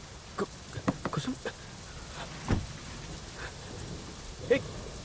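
Steady rain falls outdoors with a broad hiss, broken by several short, louder bursts and crackles. A faint low rumble may be distant thunder.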